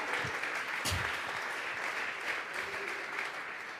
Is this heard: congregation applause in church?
yes